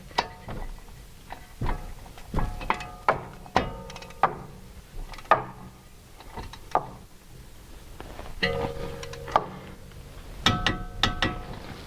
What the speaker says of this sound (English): I always go for a double click to make sure that this is torqued down to the correct specification.